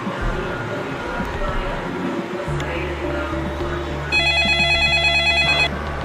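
An electronic phone ringtone chimes for about a second and a half with a steady, bright tone, after a stretch of low background rumble.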